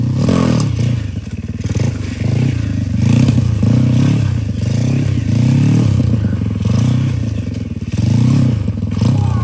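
A motorcycle circles while held in a wheelie, its engine droning loud and close with repeated rises and dips in revs, plus occasional clatter and scraping.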